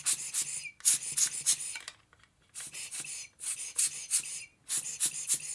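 A hand blower pumps air to clear dust out of a Logitech M185 mouse, making quick rhythmic puffs of hissing air in rapid runs, broken by a brief pause, near and alone.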